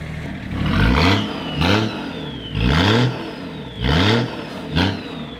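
A BMW TDS diesel engine tuned to 280 hp revs hard in repeated bursts, five sharp climbs and drops in engine pitch with a gravelly diesel rasp, loud and close, no voices.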